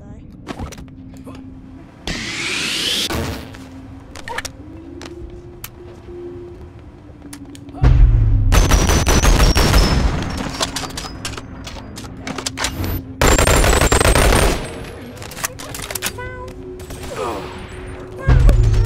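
Gunfire in the VR game Boneworks comes in loud bursts and rapid volleys, separated by quieter stretches with scattered mechanical clicks and a low tone.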